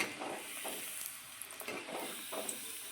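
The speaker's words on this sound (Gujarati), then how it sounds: "તળી લઈશું એકદમ ક્રિસ્પી થાય ને ત્યાં સુધી તળવાનું અને ધીમા ગેસે તળવાનું" Potato snack pieces frying in oil over a low flame, turned now and then, giving a steady close sizzle with soft crackles and occasional stirring clicks throughout.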